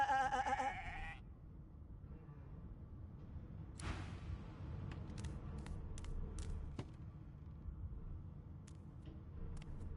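A sheep in the video game Divinity: Original Sin II gives one short, clear bleat at the start, followed by quiet soft thumps and faint clicks.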